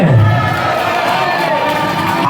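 A crowd cheers loudly and continuously at a junior race in Vypin, Kerala, a dense roar of voices with no clear breaks.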